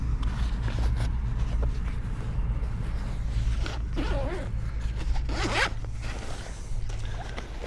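Zipper on an 80-litre tactical backpack being opened, several drawn-out zipping strokes over a constant low background rumble, close and fairly clear with a sharper pull near the end.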